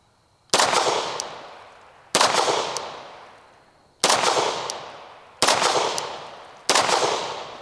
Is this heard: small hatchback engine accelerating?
no